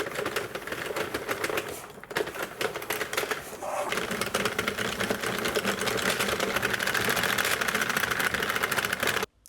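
A Sentro knitting machine cranked through rows of yarn, a fast continuous rattling clatter of plastic needles, loud and steady for several seconds before stopping abruptly, with no voices.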